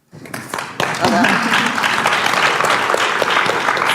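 An audience at a leadership and gender equality roundtable breaks into sustained applause that starts abruptly and continues steadily at close range, with a voice speaking over the clapping early on.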